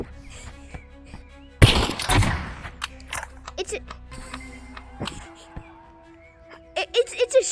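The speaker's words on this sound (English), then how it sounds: "It's a shotgun." A shotgun fires in the video game Animal Rivals: one loud, close blast with a short rumbling tail, then scattered lighter game clicks and effects.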